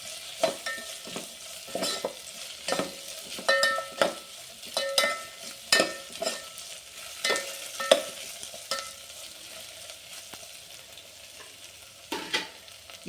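Onions frying with ginger-garlic paste in a pan, a soft steady sizzle broken by repeated scraping stirs of a spoon, close and moderate in level, no talking.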